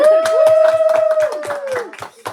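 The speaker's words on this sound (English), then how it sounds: "Oh, congratulations! Round of applause!" A short round of applause from a few people, about ten steady claps close by, with a sustained vocal cheer over the first half.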